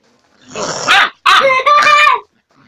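An angry dog makes two close, loud, harsh growling bursts separated by a short gap, the second longer and rougher, with near silence before and after.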